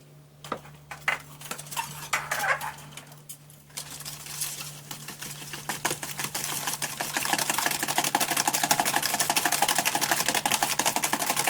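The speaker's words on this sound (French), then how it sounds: "Je vais battre au fouet déjà." A whisk beating a mixture in a bowl for a batch of almond tartlets, quick rhythmic metallic clinks that start sparse and build into a fast, steady, close-up rattle.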